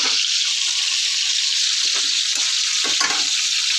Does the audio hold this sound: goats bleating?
no